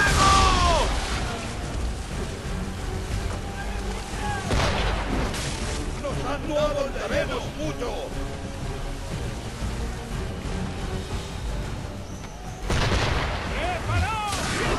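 Ship cannons fire in a naval battle in Assassin's Creed III, with several heavy booms spread across the stretch, loudest near the start and end, over constant battle noise and shouting voices.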